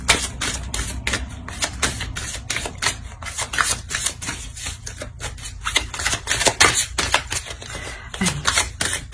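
A deck of tarot cards handled up close, with dense rapid clicking and flicking as cards are shuffled and another is drawn, steady and fairly loud.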